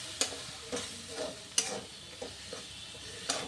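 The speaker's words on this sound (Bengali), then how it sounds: "একটু জল দিয়ে আরও ভালোভাবে কষিয়ে নিচ্ছি।" Spices stir-fried with a little water in a pan for Bengali banana flower curry, giving a soft sizzle with sharp spatula scrapes at irregular intervals, close and fairly quiet.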